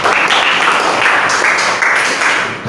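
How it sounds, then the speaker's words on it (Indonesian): A classroom of students claps for a student group at school, a dense, steady patter of many hands lasting the whole moment, close and fairly loud. "Ya, tepuk tangan juga untuk kelompok 5."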